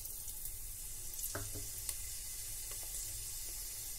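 Cumin seeds sizzle in hot cooking oil for mutton masala stew, a soft continuous hiss close by with a few small crackles and pops scattered through; no speech.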